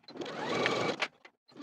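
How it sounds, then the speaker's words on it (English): A sewing machine stitches a slanted pocket seam in pant fabric with a short whirring run of about a second, then a couple of brief clicks. "sew these slanted pocket edges with a 3/8 inch seam allowance"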